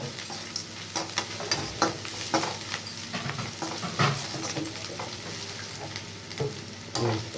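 Mushroom fry cooking in a pan: a continuous sizzle with repeated close scraping and stirring strokes of a spoon against the pan, irregular and busy throughout.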